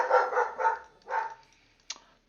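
A dog barks several times in quick bursts close by, then gives a short sharp yip, heard during a gaming session with no talk over it.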